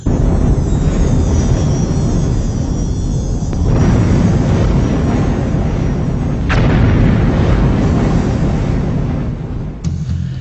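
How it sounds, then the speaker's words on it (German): A volcanic eruption produces a loud, continuous roaring rumble with heavy low booming that surges at intervals, dense and overwhelming throughout with no voices. "Beeindruckende Berge explodieren wegen des vulkanischen Drucks unter ihnen."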